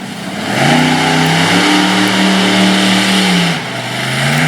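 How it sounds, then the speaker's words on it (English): A big Hemi-powered Ram monster truck named Rammunition roars at a motorsport arena, its engine climbing in pitch through a long rising rev, dipping briefly, then building again, loud and close with no talk. "the next competitor to hit the track is Matt Dishman out of Champaign, Illinois, in the big Hemi-powered Ram called Rammunition"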